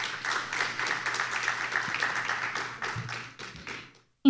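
Applause from the audience at a legal competition final in Peru, a steady wash of clapping that runs for about four seconds before cutting off abruptly.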